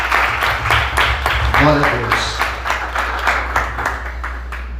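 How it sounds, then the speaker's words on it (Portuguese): Church congregation clapping for the Lord in rhythmic bursts, moderately loud, while a voice speaks and sings over the applause. "Você pode aplaudir o Senhor nessa noite?"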